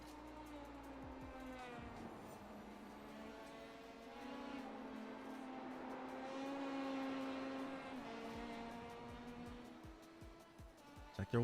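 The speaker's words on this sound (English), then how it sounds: "You always just hear a little blip of the RPM going up." A Pro Mazda race car engine in a sim racing game hums steadily at a distance, its pitch rising and falling with brief revs. The sound is faint and continuous throughout.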